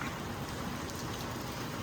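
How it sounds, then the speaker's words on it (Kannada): Steady rain falling at an Andaman beach resort, a soft even hiss of drops on surfaces, faint and continuous with no voices. "ಬಟ್ ಮಳೆ ಬರ್ತಿದೆ"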